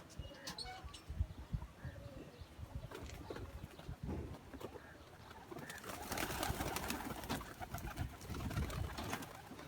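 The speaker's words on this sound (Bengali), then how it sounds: "কবুতরগুলো দেখেন কবুতরগুলো কেমন লাগলো" Low, muffled pigeon cooing repeats in the background of a pigeon loft amid rustling and scattered clicks, growing noisier toward the end.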